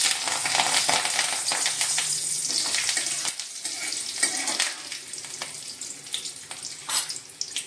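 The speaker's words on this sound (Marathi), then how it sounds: "तेल टाकलेला आहे. त्याच्यामध्ये आपण आता टाकूया मोहरी." Mustard seeds crackle and sizzle in hot oil in a pan, with a dense, bright hiss and scattered pops that stay close and continuous throughout.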